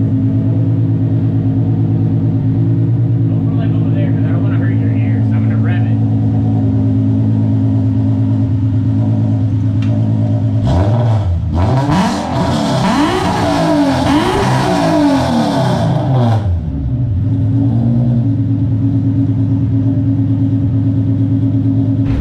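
A VQ-engine car idling with a steady drone, then revving hard for several seconds with a raspy tone from an exhaust leak before settling back to idle.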